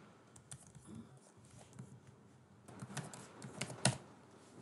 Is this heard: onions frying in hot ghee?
no